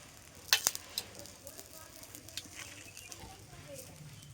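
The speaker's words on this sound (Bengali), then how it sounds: "এক সাইডটা উল্টি দিয়েছি, এবার আমি এর তেল দিয়ে দিচ্ছি।" Aloo paratha frying in hot oil in a home kitchen, with a soft crackling sizzle and a few sharp spatter pops near the start, then a steady faint patter throughout.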